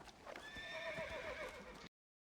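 A horse in the video game Red Dead Redemption: Undead Nightmare gives a clear, close whinny alongside clip-clopping hooves, lasting under two seconds before cutting off abruptly.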